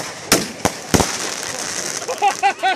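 July 4th fireworks mortar shells burst nearby in three sharp loud explosions, followed by crackling and excited voices shouting.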